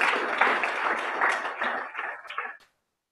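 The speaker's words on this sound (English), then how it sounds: "give Andrew a round of applause" An audience applauds a speaker at a robotics talk: a dense burst of many hands clapping at once, fairly close, that fades and stops abruptly near the end, with no voices.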